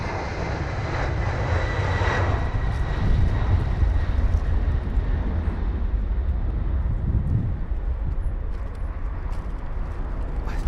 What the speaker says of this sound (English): the A340 300 with a diversion to London Heathrow